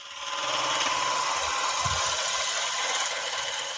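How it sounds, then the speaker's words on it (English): A wood lathe spins a bar table workpiece while a skew chisel shaves the surface, making a steady, close, broadband whir and hiss with faint rattling underneath. "We'll do a little bit of cleaning up with the skew."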